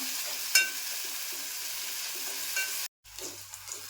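Tomatoes fry in a pan while cooking a Malvani-style prawn masala, producing a steady close sizzle with a sharp stir or clatter near the start, a short drop to silence, then the sizzling resumes.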